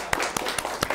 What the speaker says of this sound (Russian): Поэтому еще раз аплодисменты.